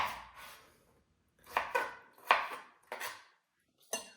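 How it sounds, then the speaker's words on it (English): A knife slicing red potatoes on a cutting board in a home kitchen: a handful of crisp, separate chopping taps in an irregular rhythm, close and fairly quiet, with short pauses between cuts. "this might be kind of boring for you guys to watch me just slice up potatoes"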